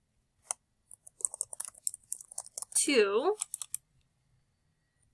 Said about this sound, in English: So I'll type in here,